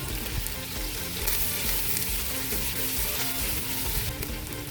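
Onion and garlic frying in cooking oil for red kabsa, a steady close sizzle and crackle of hot oil that runs without pause, with faint stirring scrapes now and then.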